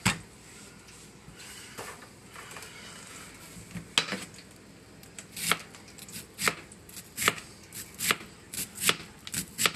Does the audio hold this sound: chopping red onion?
yes